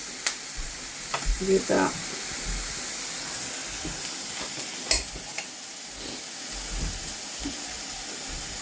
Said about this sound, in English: I'm sauteing The onion.